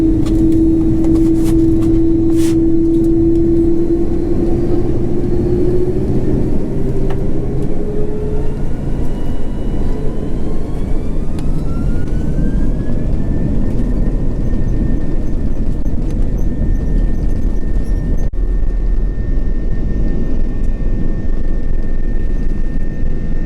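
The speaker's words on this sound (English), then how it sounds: "So here we are, airborne out of Madrid and on our way to London Heathrow" Loud, steady jet roar of an Iberia Airbus A330 climbing out of Madrid, heard from inside the cabin, with engine tones shifting and rising as the aircraft lifts off and a broad rumble continuing throughout.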